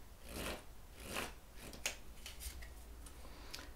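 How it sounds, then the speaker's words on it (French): Tarot cards rustle, slide and snap softly as one is drawn from the deck close by, a few quiet papery swishes and small taps, no speech. "je vais juste tirer une première carte d'ambiance pour voir"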